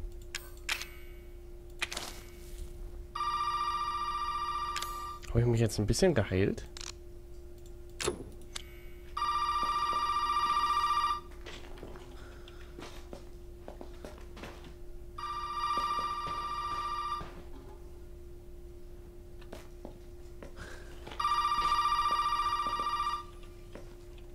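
A telephone rings in Resident Evil 7, four long electronic bursts spaced evenly with pauses between them, under a low steady hum, while someone briefly talks and some clattering is heard early on.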